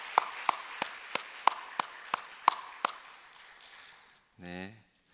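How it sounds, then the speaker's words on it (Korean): A church congregation at a family dawn prayer service claps together: about nine sharp, evenly spaced claps over three seconds, followed by a short voiced sound. "박수하겠습니다."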